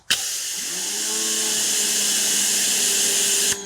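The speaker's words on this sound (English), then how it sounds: "So, Ryobi pressure washer." A Ryobi 1.8 GPM pressure washer starts abruptly, then holds a loud, close, steady high-pitched whine and hiss with a faint rising tone before cutting off near the end, with no talk.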